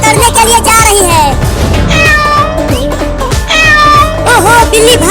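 A cartoon cat meows repeatedly over a busy, loud backdrop of music and sound effects, the cries rising and falling in short bursts throughout.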